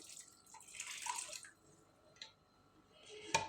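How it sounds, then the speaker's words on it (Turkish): Lukewarm water is poured over washed grapes in a bowl, a faint splashing pour rising and fading, followed by a few scattered drips and a small knock near the end. "Şimdi üzerine örtecek kadar ılık su döküyorum."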